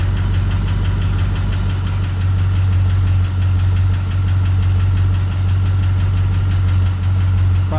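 A 1969 IHC Scout engine idles steadily with a persistent rhythmic knocking, loud and close, alone without talk for the whole stretch.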